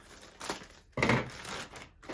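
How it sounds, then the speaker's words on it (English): Scissors snip through packaging in a couple of short crunching cuts, with faint crinkling of plastic in between, close by. "I've got my scissors, and I'm just gonna cut this baby carefully"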